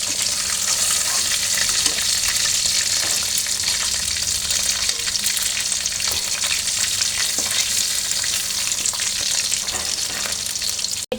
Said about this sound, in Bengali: চিকেনটা ভাজতেছি